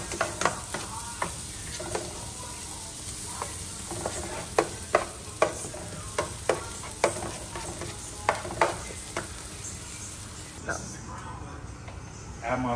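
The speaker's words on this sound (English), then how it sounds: "Get your onions in there. Get them golden brown" Onions frying golden brown in a pan for oxtail gravy, a steady sizzle with scattered clinks and scrapes of stirring, close by, ending with a quieter stretch.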